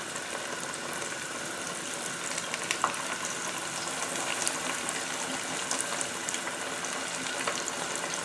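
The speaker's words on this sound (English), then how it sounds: "So I'm going to lay 3 pieces of fish in there and let that cook." Three pieces of fish frying in hot grease give a steady, close, dense sizzle with small pops and crackles throughout, with no talking.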